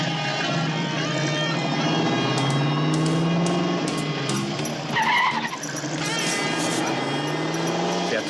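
A car accelerates hard with a rising engine note, and tires squeal sharply about midway through. A voice comes in briefly over the driving.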